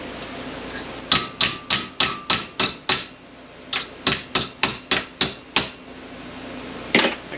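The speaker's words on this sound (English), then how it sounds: "I'm just going to randomly bend this over" Sheet metal for a Ford Econoline van's custom air dam is hammered over into a bend, two bursts of about eight ringing metallic blows each at a steady rhythm, close and loud, followed by one last strike.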